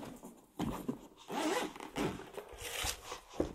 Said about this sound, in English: The zipper feels quite sturdy.